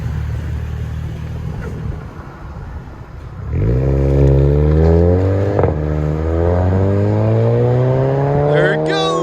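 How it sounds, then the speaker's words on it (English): A 2017 VW GLI Turbo with its mid resonator deleted idles, then its exhaust booms into a loud, close run of revs that climb and drop repeatedly, ending with a sharp high blip. "GLI VW Turbo mid resonator delete."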